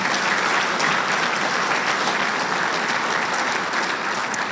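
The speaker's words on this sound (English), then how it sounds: "Round of applause for him." Sustained applause from a dinner audience honoring a Marine at an installations and logistics awards dinner, a dense, steady wash of clapping filling the room for the whole stretch without letup.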